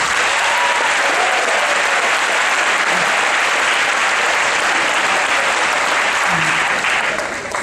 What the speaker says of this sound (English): Everyone please give her a big round of applause.